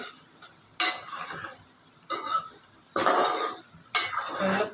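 Spices with chilli and turmeric powder frying in a pan for egg kurma, stirred in four bursts of scraping and sizzle against a steady hiss, close and fairly quiet.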